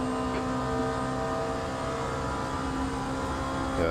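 A Gibson race car engine in Le Mans Ultimate hums at a steady, sustained pitch, a moderately quiet, continuous tone without talk.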